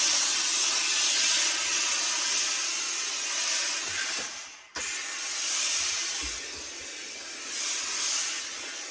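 A steam iron hisses in a loud, steady spray onto a felt trilby hat, a broad continuous rush that cuts out briefly midway and then resumes.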